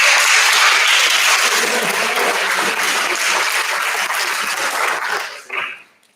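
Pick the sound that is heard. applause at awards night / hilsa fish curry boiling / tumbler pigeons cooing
applause at awards night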